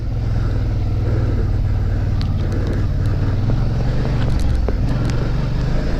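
A Suzuki V-Strom adventure motorcycle riding off-road, its engine droning loudly and steadily with rumbling low tones and wind buffeting, plus scattered clicks and knocks from the terrain.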